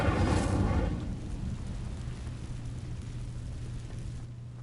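Incendio fire spell in the Hogwarts Legacy video game setting dry vines alight: a loud whooshing burst of flame at the start settles into a sustained roaring crackle.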